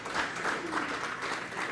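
An audience in a lecture hall applauds, a steady dense patter of many hands clapping at moderate volume throughout.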